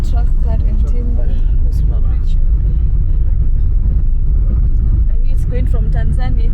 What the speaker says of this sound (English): It's a truck carrying timber.